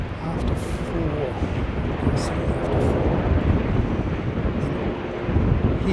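A steady broadband roar of a fixed-wing airliner arriving at an airport fills the whole stretch, loud and continuous with wind-like rumble, while a voice talks faintly over it.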